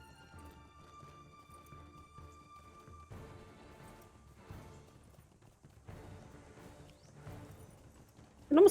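Horse hooves clip-clopping in the video game LOTRO, soft repeated footfalls at a walking rhythm under a faint sustained musical tone, ending in a sudden loud burst.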